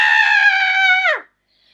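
A single sustained high-pitched scream from a sing-along song, held steadily for about a second before dropping off sharply into silence; sounds like one voice rather than a group.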